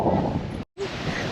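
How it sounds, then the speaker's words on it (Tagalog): Strong wind at a stormy beach in Calatagan buffets the microphone with a broad, rough roar, cut off by a short silent gap midway, then roaring on. "Mabagyo kasi talaga, malakas yung hangin, malakas din ang alon pag ganon."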